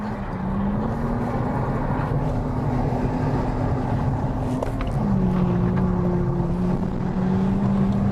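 A car engine, probably a TDS diesel, revs steadily under acceleration, with a droning tone that holds and then drops in pitch as the gear changes partway through, loud and close.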